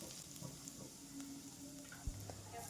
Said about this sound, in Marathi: छान असे लसूण आणि आले परतून घ्यायचे आहे.